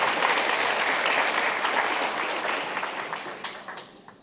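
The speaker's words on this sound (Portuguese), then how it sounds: "Dá uma salva de palmas para o pastor Ricardo" A church congregation applauds their pastor, Ricardo, with dense, steady clapping that fills the room and gradually thins out toward the end.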